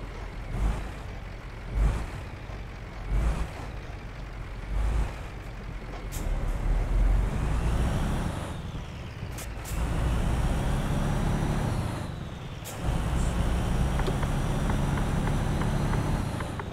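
A heavy truck engine in Euro Truck Simulator 2 rumbles steadily, rising and falling in loudness, with sharp hissing bursts like air brakes releasing between stretches of low drone.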